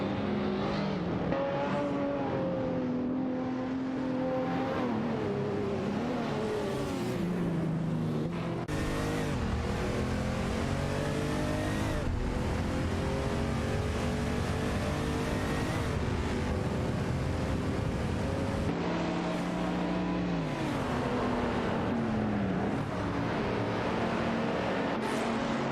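Race cars in a racing video game drive and overtake, their engines droning and shifting pitch continuously and loudly throughout, with no talk.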